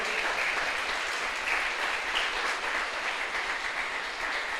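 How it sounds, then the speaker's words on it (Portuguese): A church congregation claps in a sustained, dense burst of applause that fills the room evenly from start to finish. "Você pode aplaudir o nome do Senhor?"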